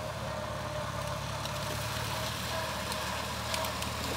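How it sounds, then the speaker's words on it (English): A steady engine-driven sugarcane grinder runs at an even idle-like drone, a continuous low mechanical hum with light rattling on top, close by and without speech. "teaching them how to run the grinder"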